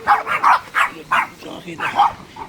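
Dogs barking at a leisure farm in Mauban, Quezon, a series of sharp close barks in an irregular rhythm, some yips mixed in, with no talk over them.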